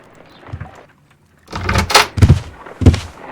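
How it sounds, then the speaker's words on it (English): Front door opening in a Sherlock Holmes game, faint creaks followed by several loud close thuds and rattles of the latch and wooden door. "I just heard the front door"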